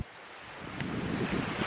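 Surf washes in at a warm, sandy beach along a coastal hike, a soft continuous rush of breaking waves rising in loudness, mixed with wind buffeting the microphone.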